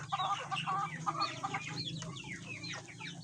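Heritage chickens in a small backyard farm cluck and chatter softly, with several overlapping bird calls at a moderate distance.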